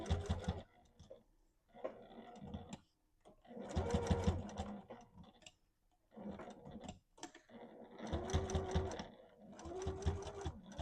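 A sewing machine stitches a sardine-shaped fabric bag charm in several close, rapid bursts of mechanical whirring, separated by short pauses.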